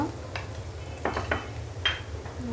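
Egg korma masala with whole garam masala and salt being sautéed in a pot, a low sizzle under a few scraping stirs and light clinks of a spoon against the pan, close by and without talk.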